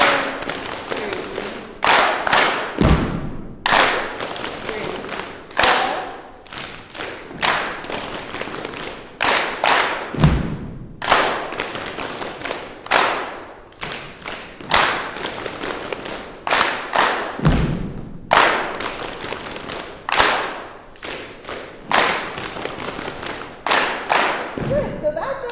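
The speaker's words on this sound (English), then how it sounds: "From the beginning of the full body percussion." Full body percussion by a community group, with sharp stamps and claps repeating in a steady rhythmic pattern, loud and close, alone with no talking over it.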